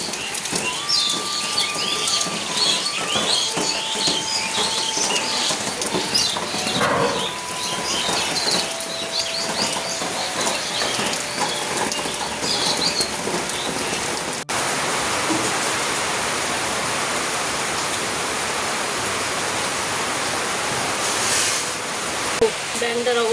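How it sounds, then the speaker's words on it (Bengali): Steady rain falls on a rural village morning, a constant hiss with faint bird calls threaded through the first half, then the downpour continues alone and dense. "দেখো কত সুন্দর সকাল সকাল পাখির আওয়াজ, আর এদিকে বৃষ্টি চালু হয়ে গেছে"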